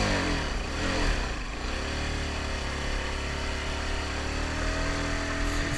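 A motorcycle rides with a steady, loud engine drone throughout, the pitch rising as it accelerates on a hill road, wind noise mixed in.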